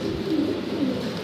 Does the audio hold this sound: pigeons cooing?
yes